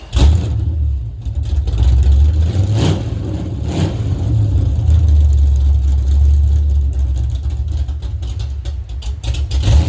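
A Camaro engine rumbles loudly and steadily as the car pulls out, a deep continuous drone with slight swells in revs and no talking.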